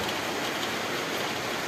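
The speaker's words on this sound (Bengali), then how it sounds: "আর এই বৃষ্টি শুরু হয়েছে" Rain falls steadily over a rooftop garden, a dense, even hiss filling the short stretch with no voices.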